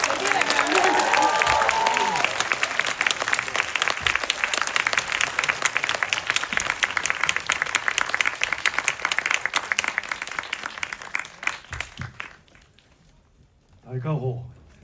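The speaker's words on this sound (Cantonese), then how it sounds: "咁我哋麻煩大家用熱烈嘅掌聲歡迎導演" Sustained, loud applause and cheering from a film festival audience welcoming the director after a screening of the film Kokuho in Hong Kong, fading out near the end before a brief voice.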